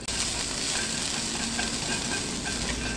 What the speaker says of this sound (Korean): 1분 안쪽으로 볶아줍니다